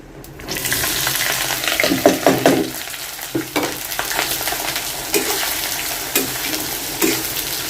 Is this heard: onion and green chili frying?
yes